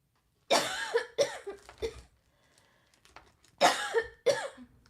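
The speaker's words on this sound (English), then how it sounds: "This cough is the worst" Four harsh coughs in two close pairs, loud and near, with a quiet pause between them and no talking.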